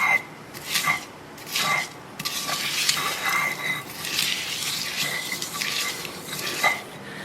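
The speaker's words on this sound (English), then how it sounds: "I'm going to mash it a bit, and I will again grind it in a circular motion." Ingredients for goat tongseng mashed and ground in a circular motion, likely with a pestle in a mortar, giving repeated scraping, clinking strokes in an uneven rhythm, close and fairly loud with no talk.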